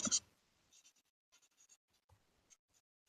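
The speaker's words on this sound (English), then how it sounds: "You could write it in big letters and color them all in." A pen scratches across a paper zine in short, soft strokes with small pauses between them, faint and close in a quiet room, starting with a brief louder knock.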